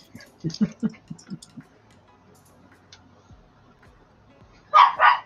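Dogs barking inside a house, a quick run of sharp nearby barks at the start, then quiet, ending with two louder, brighter yaps or cries.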